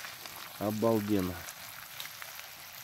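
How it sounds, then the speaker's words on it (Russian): Freshly caught fish fries in a pan outdoors on Sakhalin, a soft, steady sizzle in the background while someone briefly speaks over it. "Свеженькая пойманная рыбка, жареная"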